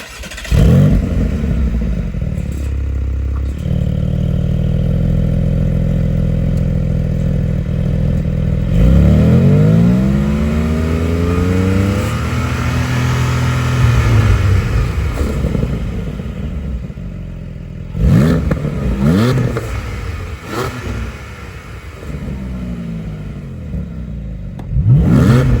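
A Lotus Emira sports car engine revved up repeatedly, loud throaty blips climbing in pitch and falling back to a rough idle in several bursts, heard close and alone.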